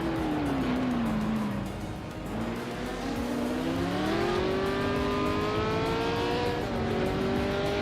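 Several race cars battle for position in a racing video game, engines revving and pitch climbing as one pulls past another, loud and continuous with overlapping engine tones throughout.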